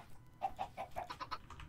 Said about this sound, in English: Got another baby chicken.